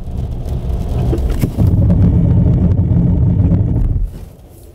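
Car driving at about 80 km/h, a loud continuous road and engine rumble with wind buffeting that cuts off sharply near the end as it brakes, leaving a much quieter hum.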